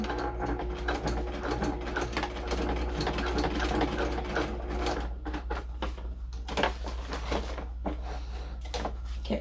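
Sewing machine running steadily while basting fabric, a continuous close mechanical whir with fast stitching rhythm and small shifts in speed throughout, no talking.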